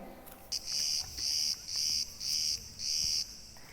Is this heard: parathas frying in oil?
no